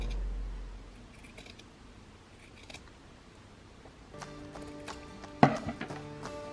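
Scissors trimming fabric for a bralette during sewing: a few faint snips close up, with a sharper cut near the end in an otherwise quiet room.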